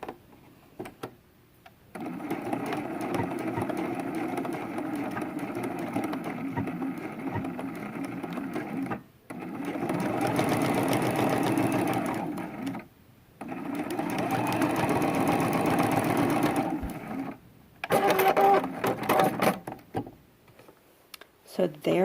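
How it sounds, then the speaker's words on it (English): A sewing machine stitching the seams of a quilted throw pillow, running in several long steady bursts of close mechanical whirring, separated by short pauses, with a few brief clicks near the end. "remove that from the sewing machine"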